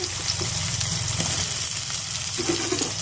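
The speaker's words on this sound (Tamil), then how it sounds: "இது கூட நறுக்கி வைக்கிற சின்ன வெங்காயம் சேர்த்துக்க போகிறோம்." Small shallots fry in oil for intestine gravy, giving a continuous close sizzle with faint stirring scrapes and no one speaking.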